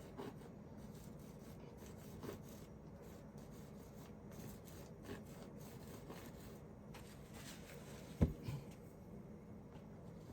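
A brush rubbing oil paint onto canvas while painting a seascape, a faint, close, continuous dry scrubbing with short strokes, plus one louder tap near the end.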